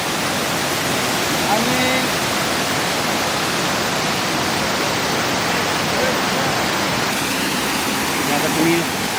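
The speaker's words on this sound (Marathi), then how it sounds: "त्या नदीचं नाव आहे भांजा नदी" The Bhanja river flowing, a dense steady rush of water filling the scene evenly and loudly throughout, with a voice faintly heard beneath it.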